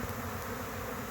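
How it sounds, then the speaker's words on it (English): A honey bee swarm makes a dense, steady buzzing of many bees, close and continuous with no pauses, no voices. "There's still some bees here thinking they're gonna leave too"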